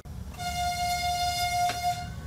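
A high-speed passenger train running between Shymkent and Turkestan in Kazakhstan sounds a steady, sustained horn tone over a low rolling rumble, with no talking.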